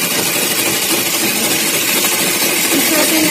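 A foot-pedal sewing machine runs steadily with a dense, continuous mechanical whir and rattle, close and loud throughout without a break.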